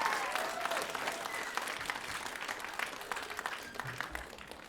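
A concert hall audience gives a dense, even round of applause after a girls' school stage band performs. The clapping is steady and moderately distant, with no talk over it.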